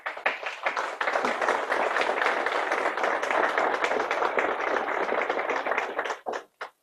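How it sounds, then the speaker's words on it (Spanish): A live audience applauds a guest named Isa Caicedo at a talk about parenting, a dense, steady wash of clapping that holds for about six seconds before breaking into a few scattered final claps. "Quiero que le den un aplauso a Isa Caicedo."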